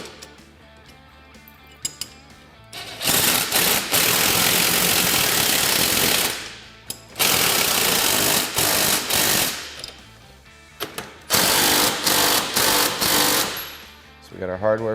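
Bursts of rapid ratcheting and impact-tool rattling as a 19mm socket tightens a tie rod nut on a Polaris RZR Trail S 1000, several loud sustained runs separated by short quiet pauses.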